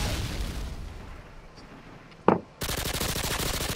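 Grenade blast and gunfire in Modern Warfare 2 multiplayer: a single sharp burst mid-clip, then dense rapid gunfire to the end.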